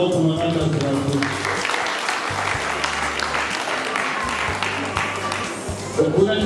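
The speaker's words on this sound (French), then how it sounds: "venons applaudir encore pour Madame la sénatrice" A crowd applauds the senator at a gathering on baby visits and care for pregnant women: broad, sustained clapping at moderate loudness, with a voice and steady tones running underneath.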